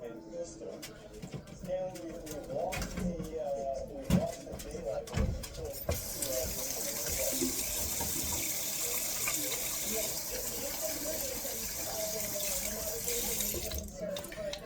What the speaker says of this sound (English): after you're done touching raw meat, you need to wash your fucking hands